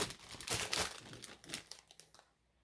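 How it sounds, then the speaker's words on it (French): Paper items slid into an envelope, giving soft crinkling and rustling that swells then fades to near silence, close and quiet, with no voices. "Je vais tout glisser dans l'enveloppe."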